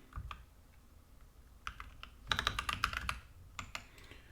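Typing on a computer keyboard to enter a cell range into an Excel formula: scattered single key clicks, then a quick dense burst of keystrokes in the middle and a few final taps, close and clear with no talking.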